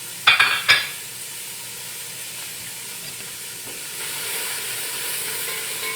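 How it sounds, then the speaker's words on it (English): Steady close frying sizzle of chopped onion in olive oil, a bright hiss that builds slightly toward the end, preceded by a couple of sharp clinks at the start. "You can probably hear it sizzling, right?"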